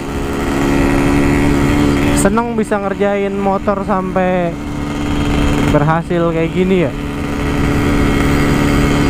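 A ported Yamaha RX King two-stroke motorcycle with a reworked head revs hard in two loud, rising bursts over a steady idle, while someone talks over it between revs.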